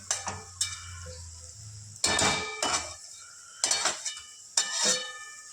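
A metal lid goes down on a pot of cooking radish bhaji, sharp clanks and ringing clinks arriving in four separate bursts, close by and loud against a quiet kitchen.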